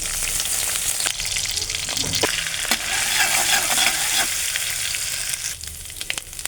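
Bay leaves, dried chilli and panch phoron sizzle in hot oil as a cauliflower dal is cooked, a steady close frying hiss broken by scraping stirs of a spoon in the pan.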